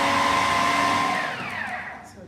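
A food processor blade whirs through hummus made from chickpeas, tahini and lemon, a steady close motor drone that gradually winds down and fades.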